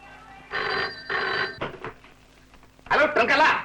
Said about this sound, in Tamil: மூர்த்தி, நீ மறுபடியும் துறைக்கு போன் பண்ணு